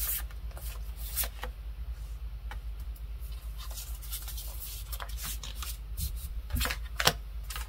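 Tarot cards are shuffled and drawn in soft, close rustles and light slaps, a quiet irregular patter of card edges against a hushed room.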